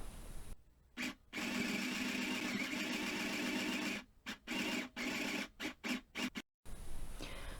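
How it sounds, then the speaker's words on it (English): A mini sewing machine stitches around the edges of fabric makeup remover pads, its fast mechanical whir running in long steady bursts broken by pauses and a string of short start-stop runs near the end. "continue sewing all around the 4 edges"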